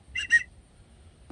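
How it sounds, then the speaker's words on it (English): Two short, shrill blasts from a safety whistle carried on a boat, blown close and loud in quick succession, followed by a brief faint knock; no one speaks. "Just another whistle."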